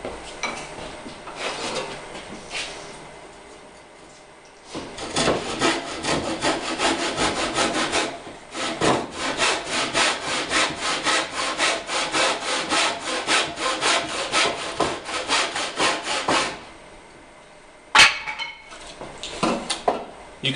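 A hand saw cuts through wooden tenon cheeks on a workbench leg, with quick rhythmic rasping strokes up close and loud, pausing briefly between bursts.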